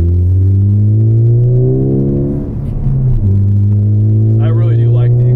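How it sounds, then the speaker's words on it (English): Car fitted with a Cobb aftermarket exhaust rumbling loudly while driving, a deep steady drone with strong harmonics that dips briefly as the revs shift and then settles back into a smooth cruise. "I really do like the exhaust."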